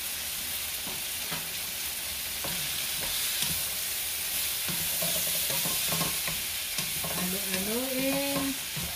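An egg is stirred in a sizzling frying pan, with a steady crackling fry and scraping strokes throughout, close and fairly loud.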